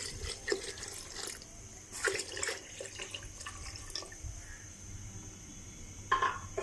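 Water is poured into a pot of browned beef while making dal gosht, heard as a few short splashes and trickles in separate bursts against a quiet kitchen background.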